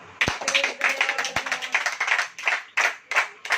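A church congregation claps in rhythmic bursts, loud and close, with a couple of sharp taps at the start and scattered faint voices underneath.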